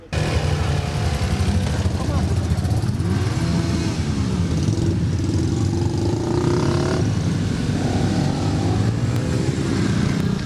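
Local bikers' motorcycles leading a column of cars in a rally through Konotop, engines droning and revving up close with passing swells, while a voice talks over the steady traffic noise.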